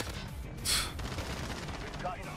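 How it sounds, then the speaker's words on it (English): Call of Duty Modern Warfare gunfire, with a sharp rattling burst from a Kilo 141 rifle standing out above quieter background shots and a talking voice over the game sound. "He just shot me in my head and I was dead"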